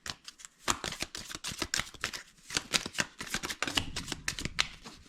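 Tarot deck being cut and shuffled by hand, a quiet, close flurry of crisp card flicks and riffles with irregular taps, no talk.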